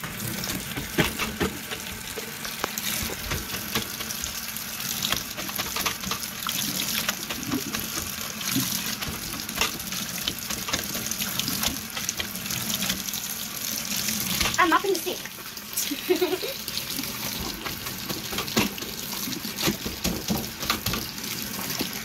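Water runs from a tap for mopping a floor during household chores, a steady close splashing flow with trickles and occasional clinks, continuing throughout.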